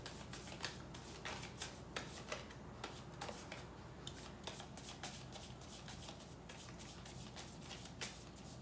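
Tarot cards being shuffled by hand in a quiet room, a steady run of soft riffling flutters and light slaps repeating for several seconds with no voices.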